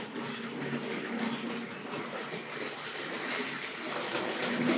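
A Tri-ang R.157/R.158 model diesel railcar runs along its track with a steady, fairly faint rolling whir and soft rhythmic wheel clatter, continuous and without talk.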